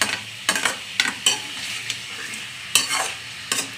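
Chicken masala being stirred and sautéed in a pan: repeated sharp scraping strokes of a spoon against the pan come at irregular intervals over a low background sizzle, close and fairly loud.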